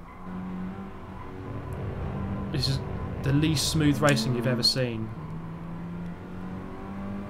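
Race car engines in Gran Turismo Sport hum and whine steadily at moderate level, with rising revs in the middle while someone talks over them.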